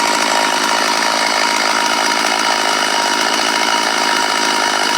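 An O-JENAS MS381 Stihl-clone chainsaw of 105 cc runs loud and close on its first tank of gas, a continuous high buzzing two-stroke whine with no pauses and no voices.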